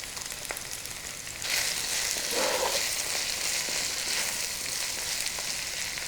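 Peppers and onions cooking in a pan over medium heat make a soft sizzle that grows louder and denser partway through, then holds steady.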